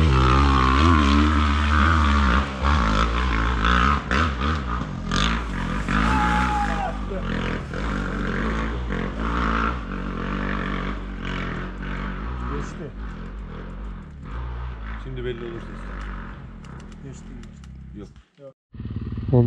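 An enduro motorcycle engine on a dirt hillside in Sakarya roars and revs hard at full throttle for a long stretch, loud and rising and falling, with voices talking over it.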